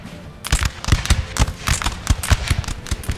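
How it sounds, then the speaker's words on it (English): Cannon and musket fire from a Napoleonic battle in Napoleon: Total War, a rapid string of sharp, loud booms and cracks in irregular bursts, some close and some farther off, with no talk. "there comes cannon shot"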